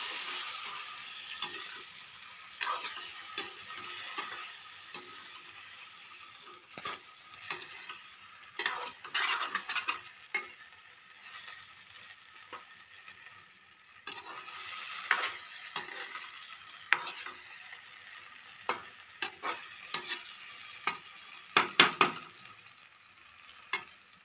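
An eggplant curry cooks on a low flame under a soft, steady sizzle, while a spoon stirs and scrapes the pan now and then. The scrapes come in irregular bursts over a long stretch, close by and with no talk.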